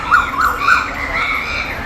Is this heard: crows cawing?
yes